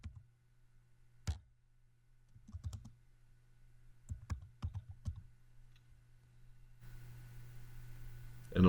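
Sparse, quiet clicks of computer keyboard keys come in small irregular clusters over a steady low electrical hum, with no talking.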